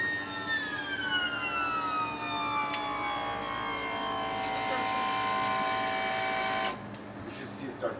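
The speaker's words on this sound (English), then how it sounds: "Turn the key on. And start dropping the landing gear here." The electric landing gear of a mobile shower trailer lowering, a motor whine whose pitch slides gradually downward, grows harsher midway, then stops, leaving quieter background noise.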